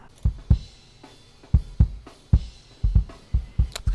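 A soloed kick drum picked up by a ribbon mic placed outside the drum in a neo-grunge mix, giving a series of irregular, punchy low thumps with short decays and nothing else playing.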